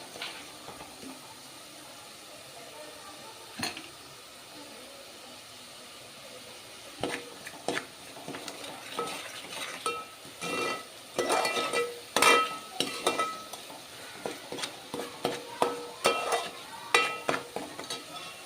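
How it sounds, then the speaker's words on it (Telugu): Onion paste sizzles softly in a little oil in a pan while preparing an old-style fish curry, with frequent scraping stirs and light metallic clinks of a spoon growing busier over time. "కొంచెం నూనెలో వేగనిద్దామండి ఇది ఉల్లిగడ్డ పేస్టు"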